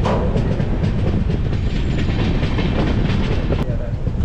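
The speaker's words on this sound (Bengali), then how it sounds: "এখান থেকে কিন্তু এবার এই কাঞ্চনকন্যা এক্সপ্রেসটা ক্রস করে যাবে" The Kanchan Kanya Express runs through Aluabari Road junction with a loud, continuous rumble and rhythmic wheel clatter, close by and steady the whole time.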